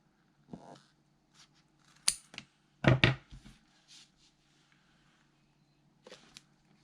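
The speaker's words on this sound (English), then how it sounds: "So I'm just going to cut my tag corners" Scissors snip the corners off paper tags, a few short, close, crisp cuts scattered with pauses, the loudest cluster in the middle.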